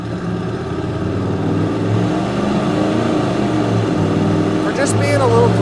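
A 1993 Chevrolet K1500 pickup with a 5.0-liter 305 V8 and automatic transmission accelerates under throttle, a loud continuous engine drone from inside the cab, with a short voice near the end.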